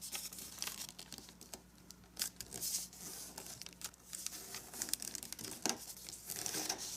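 Origami paper crinkles and crackles in sharp, irregular bursts as an edge is folded to a crease, close by with brief quiet gaps between the rustles.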